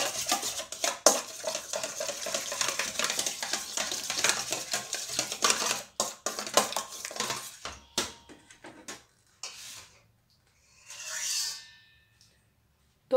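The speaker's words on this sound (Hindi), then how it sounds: "अब इसको अच्छी तरह मिक्स कर लेंगे, योगर्ट और क्रीम को।" A spoon scrapes and clinks against a bowl while yogurt and cream are mixed together, with quick irregular stirring strokes, close by, then a short pause and a softer final scrape.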